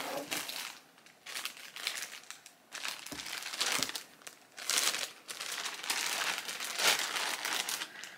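A plastic bag of food, a packet of gingerbread spice, is handled up close, crinkling and rustling loudly in repeated bursts with brief quiet gaps between them.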